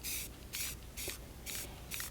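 Rust-Oleum metallic gold spray paint hissing from an aerosol can in five short, even bursts of about a quarter second each, close up, with brief quiet gaps between them and no talking.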